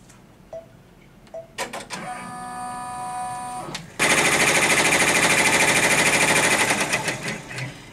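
An embroidery machine stitching a tack-down line through black fabric on a Christmas flower panel starts with a few clicks and tones, then breaks into loud, rapid mechanical stitching that rattles steadily to the end.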